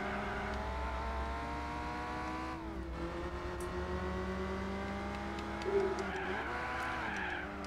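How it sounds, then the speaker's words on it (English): Toyota GT1 stealth race car in Gran Turismo 4, lapping the 24 Hours of La Sarthe circuit with chicanes: a steady, layered engine whine holds its pitch, drops sharply around a gear change, then swells and wavers with faint tire squeal, with no talking. "I'm using the Toyota GT1 stealth car for the 24 hours of Lasarth with the chicanes"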